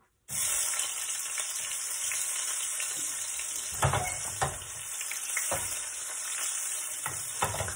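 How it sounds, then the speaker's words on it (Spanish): Onion fries with stewed potatoes in a pan, a loud continuous sizzle that starts suddenly, broken by several sharp stirring scrapes and clacks, with no talk. "Voy a echarle la cebolla primero para que se doren un poco las papas"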